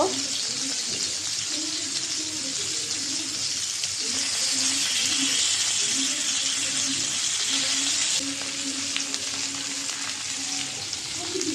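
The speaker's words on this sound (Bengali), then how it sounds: "তাওয়ার তেল দিয়ে দিয়েছি গরম হয়ে গেছে মাছটা এখন দিয়ে দিব" Steady broadband sizzle of fish frying in hot oil, continuous and close, with faint low tonal hum and occasional clinks underneath.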